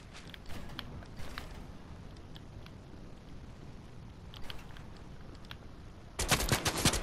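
Fortnite gunfire in a Contender League arena match: faint scattered shots early on, then a loud burst of rapid automatic fire near the end.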